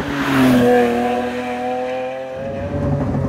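Lamborghini Aventador S engine pulling hard while driving, a loud, close, steady drone with rising harmonics, then easing slightly as the revs settle.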